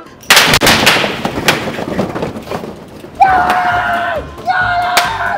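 A video game weapon fires a rapid burst of loud, close gunshots at the start, followed by sustained electronic tones from the game.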